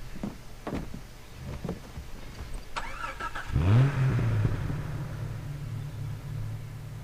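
A Far Cry 3 vehicle engine starts up and revs, a rising mid-pitched growl settling into a steady driving rumble after a few soft knocks and clicks.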